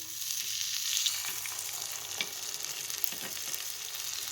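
Kuzhi paniyaram batter sizzling in a hot oiled paniyaram pan, a steady bright hiss with faint crackles and a few soft knocks, close by with no voices.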